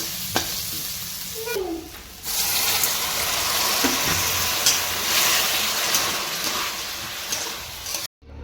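Tempered rice (phodnicha bhat) sizzles and is stirred in a pan, a steady close frying hiss with ratcheting scrapes and clicks that dips briefly early on before cutting off abruptly at the end.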